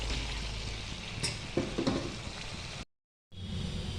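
Cauliflower florets and potatoes sizzle steadily in a pan of fried spices for a home-style cauliflower roast, with a few stirring scrapes, then a sudden brief cut to silence before the frying resumes.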